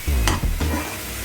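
Spices for a pointed gourd curry with yogurt fry in a pan with a loud, close sizzle, cut by a few quick scraping stirs against the metal; nobody speaks.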